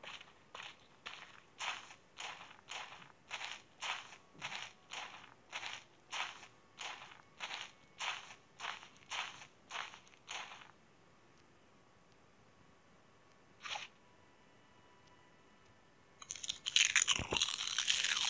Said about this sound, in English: That is the loudest crunching sound ever.